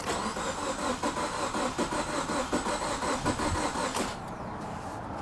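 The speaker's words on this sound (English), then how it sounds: "So my shuttle car has a crank no start condition." A car engine with a crank-no-start fault cranks steadily with a rhythmic whirring churn for several seconds, never catching, then the starter cuts off abruptly.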